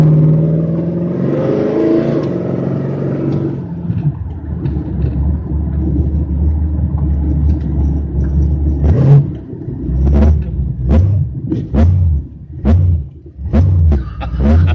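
A supercharged 1962 Ford Fairlane engine drones steadily while cruising, with a deep, loud rumble, then rises and falls in bursts of revving and accelerating toward the end.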